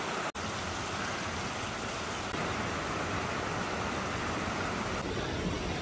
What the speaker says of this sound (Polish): Wodospad podgórny szumi